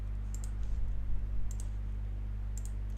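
Mouse clicks while drawing in AutoCAD software, three sharp isolated clicks spaced about a second apart, close and clear over a steady low electrical hum.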